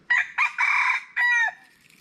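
A rooster crows close by, a loud drawn-out call in several bursts, ending with a fainter trailing note.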